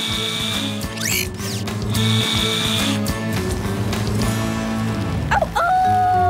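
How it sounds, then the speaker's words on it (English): A cartoon screwdriver sound effect, a run of ratcheting clicks and whirring mechanical tones with rising squeaky sweeps, loud and close over a busy musical backdrop, no talk. "Screwdriver."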